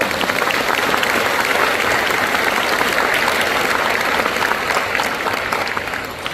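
A church congregation at a Korean Full Gospel revival meeting in Los Angeles applauds together, a dense, sustained wash of clapping that fades slightly at the end.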